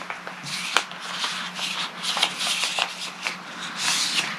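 A fabric quilt block being folded in half one way and then the other, producing close, soft rustling and crinkling of cloth in uneven bursts, with no talk.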